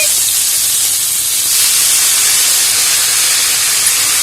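Steady loud sizzle and hiss as leafy greens go into a hot pan with garlic, an even frying roar throughout with no voices.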